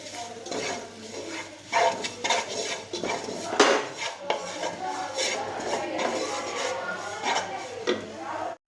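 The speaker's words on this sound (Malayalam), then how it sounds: "നന്നായി മിക്സ് ചെയ്ത് കൊടുക്കുക." Spices are stirred into chicken curry in a metal pan, with a spoon scraping and clinking against it in an irregular run of close, moderately quiet strokes.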